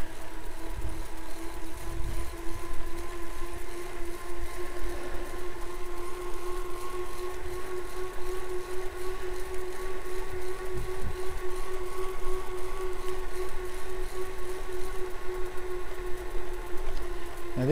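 Steady whirring hum of off-road bike tyres rolling over smooth tarmac, a constant droning tone with low rumble underneath, continuous throughout.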